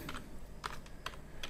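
Keys clatter on a computer keyboard as a search is typed, a few quick, quiet clicks spaced irregularly over a soft background hum.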